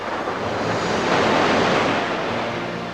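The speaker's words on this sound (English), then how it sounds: "And hear the roar of ocean breakers." Ocean breakers roll in on the Long Beach Peninsula of Washington State, a loud, continuous rushing roar of surf that swells in the middle, mixed with wind buffeting the microphone and no voices.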